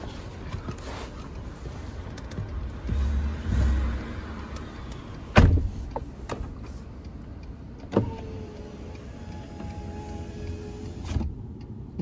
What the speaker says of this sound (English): The window is only automatic down, not automatic up.